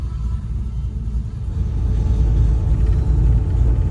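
Deep, steady engine rumble of a 1968 Camaro RS SS on the road, heard from inside the car and swelling slightly louder as it picks up speed.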